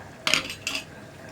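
A metal spoon scrapes and clinks twice against a pot of egg curry with curry leaves, two short bright clatters close by, followed by quiet.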